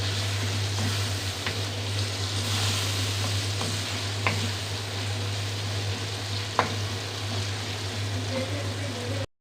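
Tomatoes fry in masala in a pan for an arvi baingan curry, giving a steady, even sizzle with a few sharp clicks from the spoon and a constant low hum beneath, with no talking.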